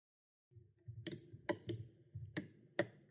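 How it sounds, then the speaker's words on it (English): A robot arm releasing its brakes on initialization gives a series of sharp mechanical clicks, about five distinct snaps spread over a few seconds over a low hum, fairly close and quiet. "The clicking sound you hear is the robot releasing its brakes."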